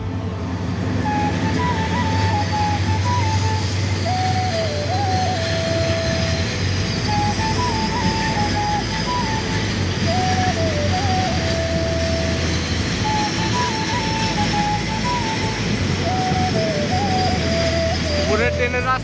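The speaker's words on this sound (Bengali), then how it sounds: "উপরে ট্রেন যাচ্ছে।" A train crosses a bridge overhead above a road, producing a continuous heavy rumble and rolling clatter for the full stretch, with someone speaking over it at times.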